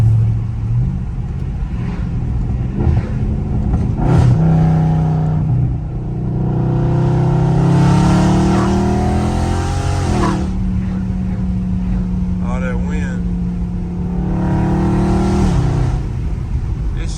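A loud Dodge Scat Pack muscle car driven aggressively, its engine rumbling and revving up and down repeatedly through gear changes, heard close and alone.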